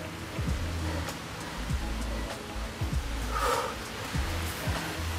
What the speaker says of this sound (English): There's that rain.